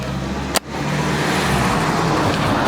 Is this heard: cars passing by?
yes